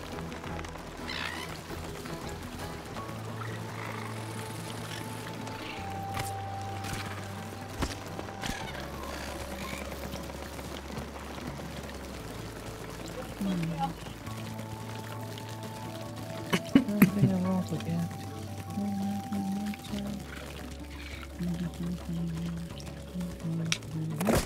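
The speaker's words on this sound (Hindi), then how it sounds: "पानी डालता रहता है साइड में।" Water pours continuously in the garden level of the video game It Takes Two, a soft splashing wash under calm, sustained game music tones.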